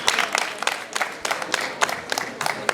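Repeated bursts of audience clapping at a Wisdom School year-end ceremony for the 2025/26 school year, moderately loud and fairly close, swelling in short rhythmic waves.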